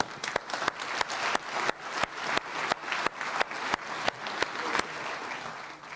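Audience applause at the World Food Forum after an address, a steady broadband patter of many hands with a few sharp louder claps standing out, sustained evenly for several seconds.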